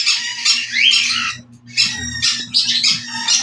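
Several birds squawk in a small home aviary with cages. Loud, harsh, close calls come in bursts with a brief pause in the middle, over a low steady hum.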